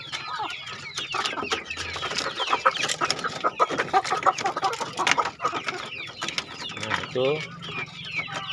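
A dozen or so chickens in a coop cluck and squawk steadily and busily up close, with a few pecking clicks and someone speaking briefly over them.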